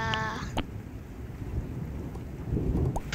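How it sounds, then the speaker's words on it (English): Thunder from a lightning strike in the video game Wobbly Life, a rumbling low crash with rain noise and a few sharp clicks, mixed with game sound effects. "I got hit by lightning"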